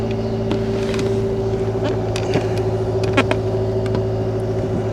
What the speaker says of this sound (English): Fire her up